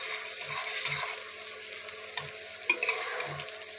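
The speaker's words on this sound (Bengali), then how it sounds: "বেগুনটা দিয়ে একটু ভাজা হবে তো" Eggplant fries in a pan with a steady sizzle. Several soft low stirring knocks and a couple of sharper clinks come through, close up, with no voices.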